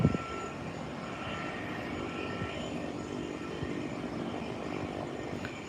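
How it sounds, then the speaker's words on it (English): A Gulfstream V business jet waits at the runway threshold in the evening, turning to depart, its engines giving a steady, distant whine and rumble that continues evenly throughout. "here's a Gulfstream 5 at the threshold of the runway. There's a seat there, making its 180"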